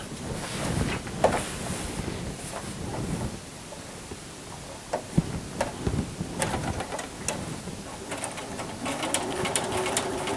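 A sewing machine works along a duffle bag seam, pivoting at a corner, its motor running in a low, uneven whir with small clicks and taps from the fabric, close by.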